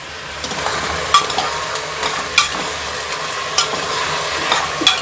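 Green peas are stirred into a pan of pav bhaji with repeated scraping and clacking strokes of a spoon, irregular and close, over a light sizzle with no talking.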